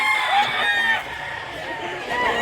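A rooster crows at a poultry sale in Mantalungon, Cebu, a sustained loud call that rises and falls over about two seconds, with other fowl faintly around it.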